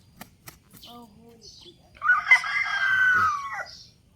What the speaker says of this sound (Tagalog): Mabait tong amin manok na to eh.